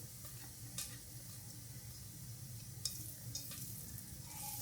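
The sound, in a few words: cumin seeds sizzling in hot oil while tempering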